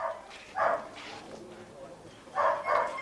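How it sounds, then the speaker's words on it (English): Racing greyhounds at a stadium in England give a few short barks in two bursts, one early and a doubled one near the end, fairly close amid low background noise. "These dogs are greyhounds"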